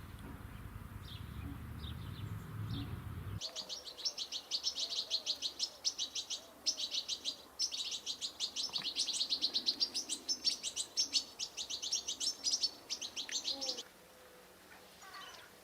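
Many small birds chirp and twitter in rapid, overlapping bursts outdoors, a busy chorus that continues for a long stretch before dropping away.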